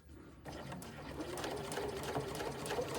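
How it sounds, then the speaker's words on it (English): Sewing machine stitching a gradual curve in fabric, a rapid mechanical whirr that starts after a brief pause and runs steadily, growing slightly louder toward the end. "pivoting my fabric by just gently raising the presser foot with the needle down to go around the curve"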